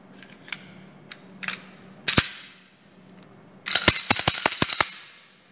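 A TH40C airsoft pistol being assembled gives off sharp plastic and metal clicks and snaps, first a few scattered ones, then a quick cluster of crisp clicks near the end, close and alone.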